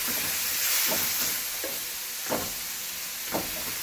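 Beef and ginger stir-frying in a pan on a stove at medium heat, a steady loud sizzle with occasional scraping stirs popping through.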